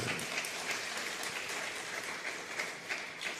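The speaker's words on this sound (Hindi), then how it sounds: "तालियां बजा के मत उड़ाओ" An audience claps together in a soft, even patter of applause, moderately distant and continuing throughout.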